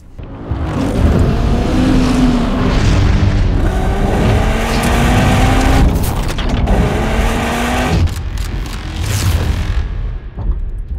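A Cupra Formentor pulls away and accelerates hard, the engine rising through revs with a gear change, loud and close and then fading toward the end.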